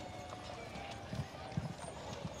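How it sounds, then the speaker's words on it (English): Spotted draft horses pulling a Studebaker sprinkler wagon in a rodeo parade, hooves clopping softly on the street amid a busy outdoor crowd murmur and a public address voice. "The Sprinkler Wagon made by Studebaker is being pulled today by Darl Allred and Spotted Draft Horses Cisco, Tess, Jake, and Crystal."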